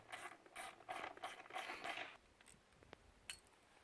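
A ratchet with a 10mm socket loosening the seat bolts on a four-stroke dirt bike, heard as a close run of quick metallic clicking bursts that fades to a quiet pause with a few light taps at the end.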